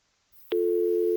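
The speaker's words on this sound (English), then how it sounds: "you could probably hear a modem sound going off in the background" A dial-up modem's line tone starts abruptly after a short quiet stretch and holds as one loud, steady, unbroken pitch to the end.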